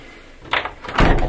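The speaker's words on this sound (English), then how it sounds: "A locked door." Someone tries a locked door in an abandoned millionaire's castle, giving a couple of close, heavy rattles and thuds as the door is pushed and pulled without opening, with no talk.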